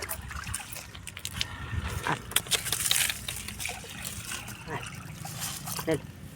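An animal drinking water on a farm, making soft wet lapping and trickling sounds close by, partly masked by someone talking over it and faint background noise.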